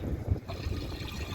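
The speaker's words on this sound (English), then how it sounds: "let's add some water to the bowl" Water poured into a toilet bowl, a brief close trickle and splash lasting just over a second with no talk.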